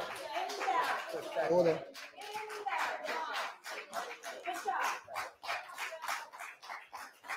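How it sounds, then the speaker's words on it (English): Audience clapping at a town select board meeting, steady rapid handclaps filling the room while a voice talks over them, with a brief spoken interjection amid the noise. "we're going to stop the clapping"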